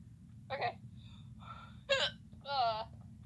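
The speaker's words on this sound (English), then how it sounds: "It's like a worst hiccup ever." A girl hiccups in several sharp, voiced bursts spaced about a second apart, close to the microphone over a low steady hum, with small breathy sounds between them.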